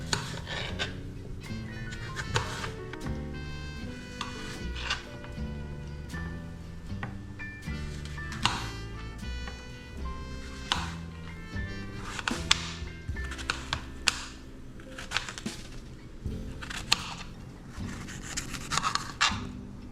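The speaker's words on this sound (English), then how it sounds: "it's time to cut them and get those cores out" A knife cuts apples and scrapes out the cores on a board, giving soft repeated clicks and rasps over gentle background music.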